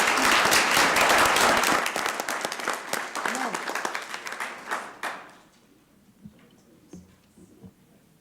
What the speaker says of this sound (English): We want to give you another round of applause